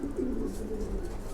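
Pigeons coo softly and continuously inside a pigeon loft, with low, throaty murmurs from several birds overlapping into a steady, close drone with no talk.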